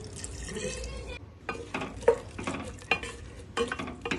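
Vegetables with rock salt and ground coriander and cumin being stirred in a pot with a little added water for pav bhaji, uneven scraping and sloshing strokes with wet sizzling, fairly quiet and close.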